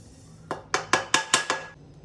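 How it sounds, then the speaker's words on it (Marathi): A metal spoon scrapes roasted wheat flour out of a kadhai onto a wide plate, six sharp metallic clinks in quick even succession, close and clear with no talk. "आता आपण ह्याला परातीत काढून घेऊ."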